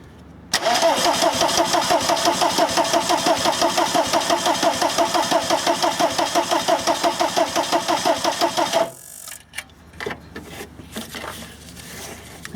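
A swapped-in TDI diesel engine in a VW Camper cranks loudly and steadily with a fast rhythmic churn for about eight seconds, then cuts off abruptly, leaving scattered quieter clicks and clunks.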